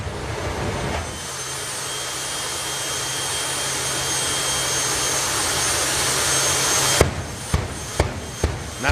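Steady, loud jet engine roar fills the scene, rising slowly in intensity, then gives way to a series of sharp, rhythmic bangs near the end.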